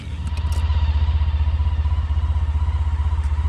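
Motorcycle engine running steadily while riding along at a relaxed pace on the way home to southwestern Virginia, with a replacement pump fitted; a loud, even low throb pulses rhythmically throughout, with no talking.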